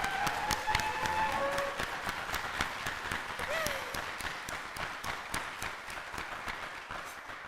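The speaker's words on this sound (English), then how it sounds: "I would like us all to give our amazing faculty a round of applause." Applause at a physician assistant program white coat ceremony, a dense, steady patter of many hands clapping in a large hall, sustained and fairly loud, with brief cheers and voices mixed in before it slowly thins.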